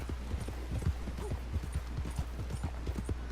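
Horse hooves clip-clop in Red Dead Redemption 2, a brisk, even rhythm of hollow thuds at a steady trot, close and clear over a low background hum.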